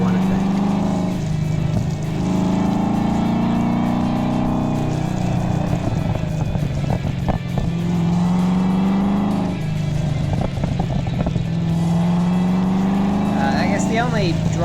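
A Mazda RX7 FD3S with a swapped LS7 V8 drives along, its engine rising and falling through repeated revving pulls and gear changes while someone talks throughout over the rumble.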